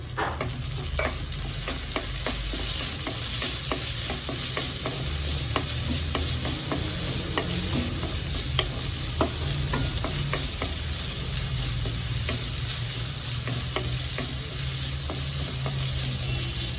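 Chopped onion sizzles in a pan while being stirred, a constant close frying hiss punctuated by regular scraping and tapping strokes of a spatula, steady and moderately loud with no voices.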